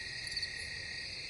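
Crickets chirp steadily at night in a dense, continuous high trill with no pauses, moderately loud and close, with no voices over it.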